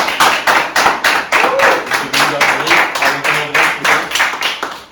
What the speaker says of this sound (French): Monsieur Louis Bergerie, on applaudit s'il vous plaît.